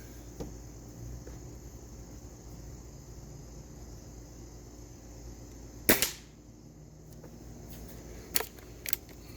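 A Stoeger X20 S2 air rifle fires at a target with one sharp, loud crack, followed a couple of seconds later by two fainter clicks or snaps over quiet outdoor background hiss.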